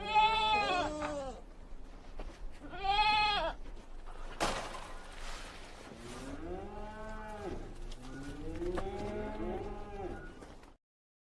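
Goat bleats used as a sound effect: two short, wavering bleats close together, then a longer stretch of overlapping, drawn-out bleating calls, fairly loud and close with no talk.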